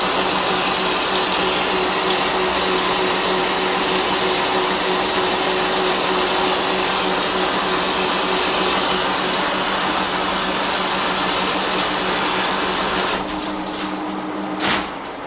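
A lathe makes a test cut with flood coolant running: a loud, steady machine drone with a constant hum and splashing wash persists throughout, shifting briefly near the end as the cut finishes.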